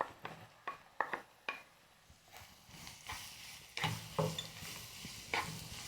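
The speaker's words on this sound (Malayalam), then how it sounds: "നന്നായി ഇളക്കി കൊടുക്കണം" Beetroot tossed in a pan with fenugreek and asafoetida powders while making beetroot and dates pickle: sharp scraping stir strokes of a spoon against the pan, irregular and close, over a light sizzle.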